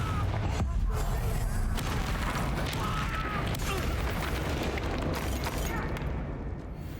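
Confringo fire spell blasts in the video game Hogwarts Legacy, a dense continuous roar of booming explosions and rumbling debris, loud and close throughout.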